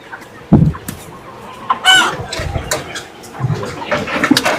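Several broiler chickens at a market cluck and squawk close by in bursts, with scattered calls overlapping through a noisy background.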